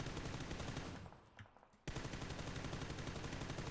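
Automatic rifle gunfire in the PUBG video game, rapid full-auto bursts fired in a fast steady rhythm, briefly dropping off before a second loud sustained burst, with no talking.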